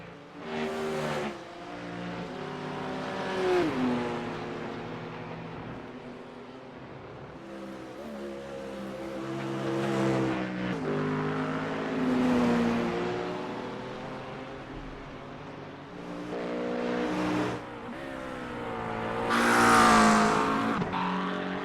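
GT3 race cars roar out onto the Nürburgring Nordschleife, engines revving and shifting through repeated acceleration runs, a loud passing surge near the end with faint tire squeal.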